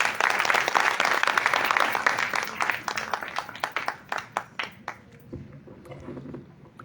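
An audience claps after a speech at a Hindi fortnight cultural ceremony, dense applause that is loud at first, then thins into scattered individual claps and fades out.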